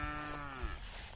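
A family of cows gives a single low, sliding moo from a little distance, over faint outdoor ambience.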